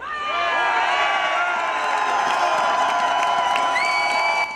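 A large crowd at a French-language protest in Montreal, cheering and shouting loudly and continuously, with whoops and overlapping voices filling the whole stretch.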